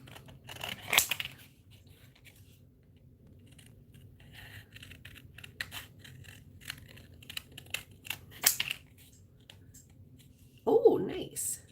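Scissors snipping around a die through cardstock, a few crisp cuts scattered under quiet conversation, close by, with a louder crinkly rustle near the end.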